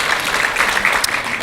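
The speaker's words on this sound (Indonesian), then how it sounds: "Berikan tepuk tangan kita untuk Tuhan kita." Applause from a church congregation after a call to clap for the Lord during a sermon, a steady dense wash of clapping lasting a moment with no voices over it.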